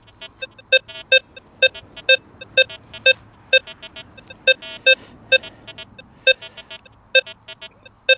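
Rutus Versa metal detector sweeping over an in-ground nail target, giving a series of sharp, bright electronic beeps in an uneven rhythm, loud and close, with no talk over them.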